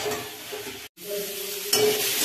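Spice paste with vegetables and a little mustard powder sizzles steadily in a pan while being stirred, a close, soft frying hiss with a brief gap and a few scraping stirs.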